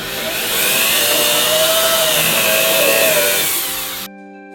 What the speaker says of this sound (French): Donc on fait des trous à la perceuse.